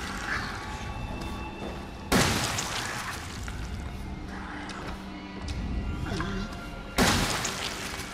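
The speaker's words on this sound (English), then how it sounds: "Take a shotgun to the face." Shotgun blasts in the Resident Evil 7 Biohazard video game, two loud booming shots several seconds apart over a dense background of game ambience and noise.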